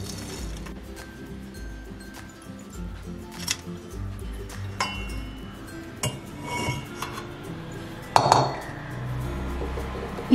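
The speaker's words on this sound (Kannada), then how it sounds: "ಅದರಲ್ಲಿ ಈ ಕೊಬ್ಬರಿ ಎಣ್ಣೆನ ಶೋಧಿಸ್ಕೋತಾ ಇದ್ದೀನಿ." Homemade coconut oil is strained through a steel sieve into a vessel, with scattered metallic clinks and taps of steel utensils, one louder clank near the end, and low handling noise; no speech.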